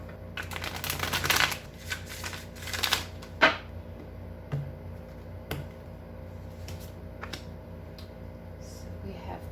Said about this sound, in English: I'm not very good at shuffling, so please don't judge my shuffling.